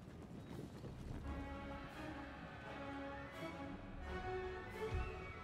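Cavalry horses gallop in the video game Empire Total War, a faint rolling clatter of many hooves with a continuous battle rumble beneath and occasional sharp bursts.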